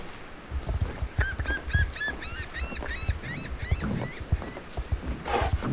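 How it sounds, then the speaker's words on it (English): A horse whinnies in a long wavering neigh near stables in the game Star Stable Online, with hooves clopping and scattered thumps around it, fairly close. "I see some horses."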